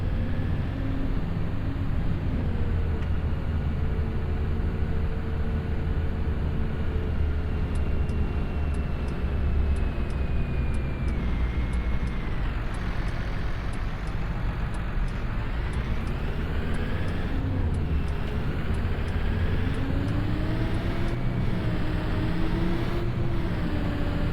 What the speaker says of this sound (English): I'm just gonna be silent for a bit so you can enjoy the engine sound.